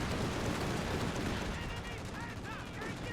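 Strafing run gunfire from an aircraft in a 4v4 Company of Heroes 2 match, a dense burst of rapid shots and impacts that thins out toward the end, with game radio chatter faintly underneath.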